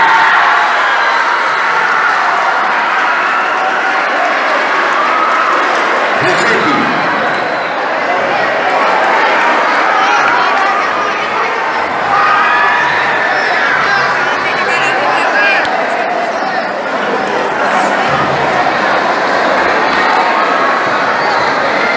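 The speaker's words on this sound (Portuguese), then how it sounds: "aplaudir para a escola professor Leandro Barros." A large crowd at a fanfare and symphonic percussion band competition cheers and applauds as results are announced, a loud, continuous roar of clapping and voices that fills the whole stretch, with chatter mixed in.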